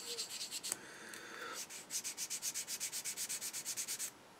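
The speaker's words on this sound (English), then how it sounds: "give them a quick rub till they kind of disappear a bit" Plastic model kit parts for a Tamiya SU-76M being sanded with a sanding stick: close, quiet strokes, a few uneven rubs first, then a fast, even run of about fifteen back-and-forth scrapes that stops abruptly.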